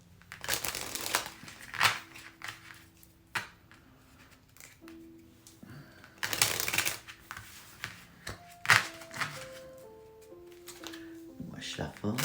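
Kipper fortune-telling cards are shuffled in several bursts of crisp, riffling card noise, with quiet stretches between them and soft musical tones in the background.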